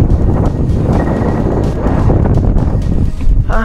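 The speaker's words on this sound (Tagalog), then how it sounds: "grabe yung hangin niya" Strong wind buffeting the microphone at a mountain campsite overlooking Pangil, Laguna, a loud, continuous low rumbling roar that surges and gusts without letting up.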